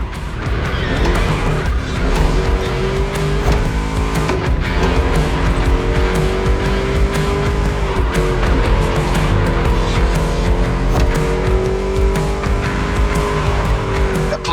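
A V8 race car engine in the video game The Crew: Motorfest roars loudly and steadily, pitch rising and falling through revs and shifts, with tire squeal and skidding over the continuous drone.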